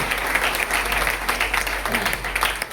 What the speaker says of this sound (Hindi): एक बार ताली बजाओ सुनील शर्मा जी के लिए